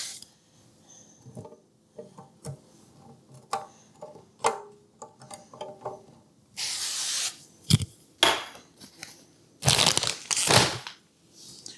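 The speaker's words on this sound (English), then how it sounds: "I'm going to give him a little spray." Two or three short, hissing bursts of a spray bottle over chicken strips in an air fryer basket, loud and close, after a run of light clicks and taps.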